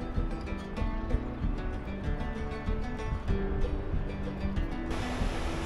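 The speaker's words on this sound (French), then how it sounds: "donne lieu à la naissance d'une cascade qui parcourt la roche et qui dévale dans la vallée." Steady rushing water of an Alpine waterfall cascading down rock roars continuously, a broad wash of cascading flow with no voices, holding at an even level throughout.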